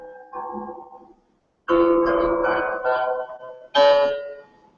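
Soft plucked string notes of an ancient Chinese instrument ring out in three short phrases with brief pauses, warm and gently decaying, played quietly and alone.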